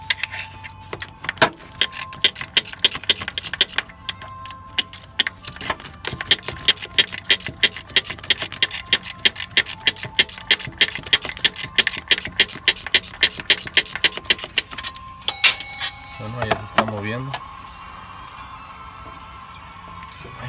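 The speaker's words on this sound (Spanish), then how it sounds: "vamos a remover este tornillo que está aquí, de la parte de arriba" Ratchet-like clicking and metallic rasping from a wrench loosening an upper bolt on the alternator of a Toyota 4Runner, a fast run of close, repeated clicks followed by a few scraping metal knocks, with no talking.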